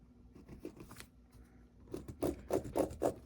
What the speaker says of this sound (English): After I'm done tracing it, I'm going to cut approximately a 1/2 inch inside the lines.